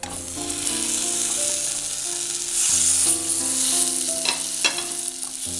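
Sauteed banana is stirred into a frying sweet mixture of sesame, coconut and cashews for pazham vilayichathu, with a loud steady sizzle and occasional spatula scrapes against the pan, no voices.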